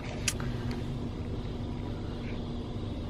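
Steady low rumble inside a parked or idling car on a cold day, a continuous muffled hum with a faint click or two near the start.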